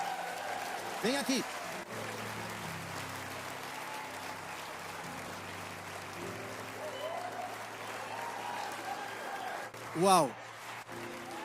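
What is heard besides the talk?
audience applauding at church service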